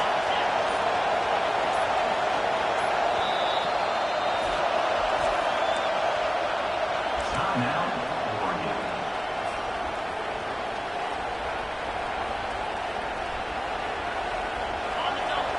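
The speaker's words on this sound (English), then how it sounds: "They've got them pinned deep in their own end, and this crowd trying to help keep them there." A stadium crowd at a football game roaring in a steady, dense wash of noise that holds for the whole stretch, loud and distant-sounding, with no clear peaks.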